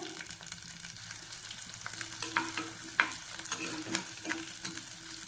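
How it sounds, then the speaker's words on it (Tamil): Onions fry in hot oil with a continuous gentle sizzle, occasional spoon stirs and small crackling pops, close and moderately quiet with no speech. "இந்த வெங்காயம் வந்து நல்லா வதங்கணும்"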